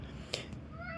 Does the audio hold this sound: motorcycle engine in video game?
no